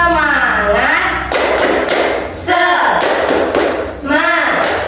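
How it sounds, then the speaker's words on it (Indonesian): Children in an elementary classroom clapping a rhythmic 'tepuk semangat' pattern, quick groups of hand claps and taps mixed with voices chanting together and rising and falling in sung syllables. "Kita tepuk semangat dulu ya. Tepuk semangat."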